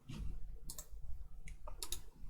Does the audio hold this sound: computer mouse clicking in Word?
yes